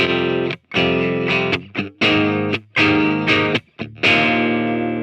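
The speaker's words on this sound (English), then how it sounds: "I'm running into a very clean Marshall JCM 900 that sounds like this" Electric guitar chords ring out through a clean Marshall JCM 900 amp with a full, sustained tone, played in bursts separated by brief silent breaks.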